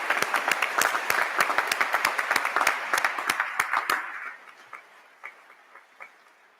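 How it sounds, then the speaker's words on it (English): An audience claps at a college of business ribbon-cutting ceremony with moderate, distinct handclaps that fade after about four seconds. A few scattered claps continue after that. "How about a round of applause"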